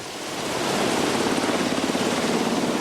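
An SH-60B Seahawk helicopter flies over the ocean, its loud rotor chop building to a steady rapid pulsing over broad wind and engine roar, with no talk.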